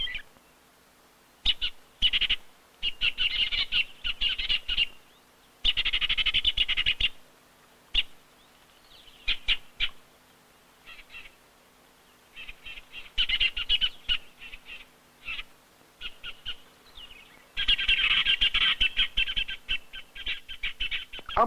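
Male weaver birds display frantically around large twig nests in an African baobab tree, giving bursts of shrill, buzzy chattering that come and go in busy clusters, fairly close and loud with no voices.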